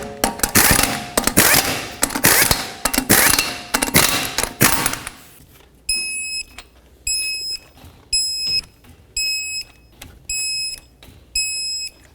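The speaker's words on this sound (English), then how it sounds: "Start on all 5 of your lug nuts, bottom them out, and torque them to 100 foot-pounds." An impact wrench rapidly runs lug nuts onto a Pontiac G6 wheel, loud rattling bursts for about five seconds, followed by a series of short, evenly spaced clicking bursts, like a torque wrench stepping around the five nuts.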